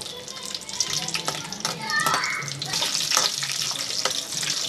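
Ten green chillies fry in hot oil for a tomato chutney, crackling and sputtering close by amid stirring, faint water sounds and brief background voices.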